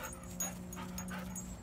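An excited dog whimpers in short, high, nasal whines close by, over a steady low background hum.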